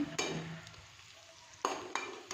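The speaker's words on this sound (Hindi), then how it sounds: "अब यहाँ पे 2 से 3 मिनट तक हम इन मसालों को अच्छे से इसमें भुनेंगे" Masalas stir-fried in a pan for vegetable pulao, with a soft steady sizzle and a few sharp scraping stirs of a spoon against the pan, close and moderately quiet, no talking.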